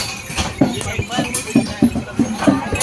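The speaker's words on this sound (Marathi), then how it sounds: "पुढं बैलगाडी चालली" A bullock cart pulled by bullocks rolls along at a picnic spot near Pune, hooves clopping in a steady, close rhythm while people talk over it.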